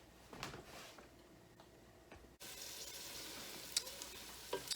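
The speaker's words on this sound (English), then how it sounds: "So our onions and our garlic are all sauteed." Onions and garlic sauté in oil at the start of a minestrone soup, a quiet, steady sizzle with a few faint ticks and clinks of the pan.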